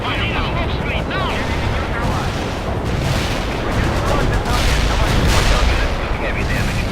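Heavy artillery fire in the video game World in Conflict, a dense continuous barrage of booms and blasts rumbling loud throughout, with radio-style voices talking over it.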